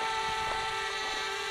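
A GDU O2 sliding-arm drone hovers and flies, its rotors giving a steady, high-pitched whine with a strong constant tone, close and fairly loud with no talking.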